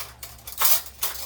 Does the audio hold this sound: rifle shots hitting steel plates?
no